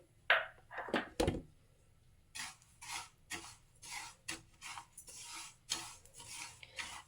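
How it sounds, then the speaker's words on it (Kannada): Sesame seeds dry roasting in a pan over a medium flame, stirred with a utensil: repeated close rasping scrapes and light knocks come in uneven bursts, with no talking. "ನಾನಿಲ್ಲಿ ಎಳ್ಳನ್ನ ಹುರ್ಕೊಳ್ಳೋದಕ್ಕೆ ಇದ್ದೀನಿ ಸ್ವಲ್ಪ ಮೀಡಿಯಮ್ ಫ್ಲೇಮಲ್ಲಿ ಇರಬೇಕು"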